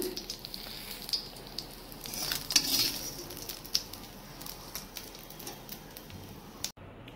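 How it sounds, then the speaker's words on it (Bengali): Hilsa fish frying in hot oil, a soft steady sizzle with light crackling and spatters that swell briefly near the middle before easing off, alone and fairly quiet. "মাছ ভেজে নিলাম।"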